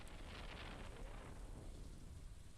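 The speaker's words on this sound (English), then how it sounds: "Out of nowhere, it starts raining." Rain and rumbling thunder from the farming video game Stardew Valley, a steady, quiet downpour hiss with low thunder rolling underneath throughout, no voices.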